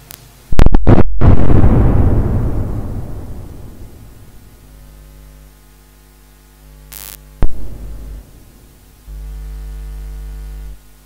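A bomb explosion booms loudly up close, its heavy rumble slowly dying away over several seconds, followed later by sharp electronic bursts, a pop and a steady mains hum.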